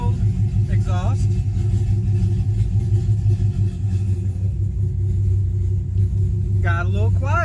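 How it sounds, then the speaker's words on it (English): A car idles with a low, rumbling exhaust through a $50 eBay exhaust cutout set to a mild position, a steady deep drone close by, with brief spoken remarks at the start and end. "Now let's kind of go back to a little mild exhaust."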